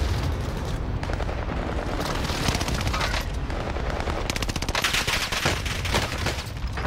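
Rapid automatic fire from a Cooper carbine in a shooter video game rattles on almost nonstop, loud and dense, with overlapping explosive game effects.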